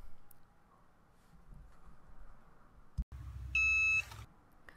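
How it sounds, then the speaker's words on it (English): Cricut EasyPress heat press timer beeps in a short bright series near the end, after a quiet stretch with a thump. "you're going to hold it in place and wait for the timer to beep"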